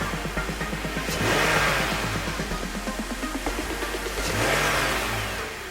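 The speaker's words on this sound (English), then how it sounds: "The throttle response is even better now." A BMW E46 engine, fitted with a new silicone hose, revs repeatedly in short throttle blips over a steady idle, rising in pitch and falling back several times, close and loud with no talking.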